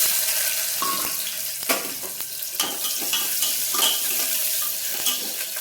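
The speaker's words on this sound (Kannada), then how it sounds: "ಸ್ವಲ್ಪ ಈರುಳ್ಳಿ ಫ್ರೈ ಮಾಡ್ಕೊಳ್ಳೋಣ ಚೆನ್ನಾಗಿ, ಹಸಿ ವಾಸನೆ ಹೋಗುತ್ತನ" Onions sizzling and frying in a hot pan for vegetable pulao, a steady crackling hiss with occasional sharp stirring scrapes and clinks throughout, close and fairly loud with no talking.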